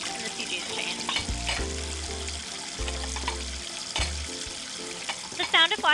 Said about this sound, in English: The sound of washing dishes echoes in a quiet living room.